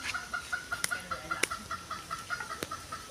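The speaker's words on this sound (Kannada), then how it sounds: "ಈ ಜಾಲರಿ ಒಳಗೆ ಭಾಳಷ್ಟು ಪಕ್ಷಿಗಳು ಅದು ಬೇರೆ ಬೇರೆ ಜಾತಿ ಪಕ್ಷಿಗಳನ್ನು ಅದಾವು" Chickens and other fowl in a mesh aviary at a zoo in Gadag, with repeated clucks and short calls at a steady pace, fairly close and moderately loud, with no talking.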